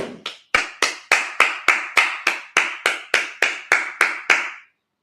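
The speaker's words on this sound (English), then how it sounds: "Just clap it up." Steady rhythmic clapping at a church Sabbath service, about a dozen even claps in a row at a measured tempo, close and clear, then stopping abruptly with no talking.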